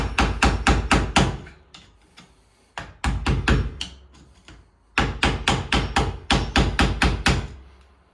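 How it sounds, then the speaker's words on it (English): A hammer tapping a screwdriver set in the groove of a shower cartridge nut on a Roper Rhodes Tavistock thermostatic valve, loud close sharp metallic strikes in quick rhythmic runs of several blows, separated by short pauses, no talking. "Getting the screwdriver into the groove of that nut and tapping"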